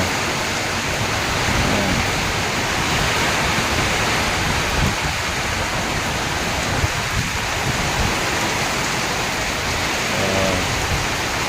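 Heavy rain pours down with strong wind, a dense, loud and continuous hiss that stays steady throughout with no voices.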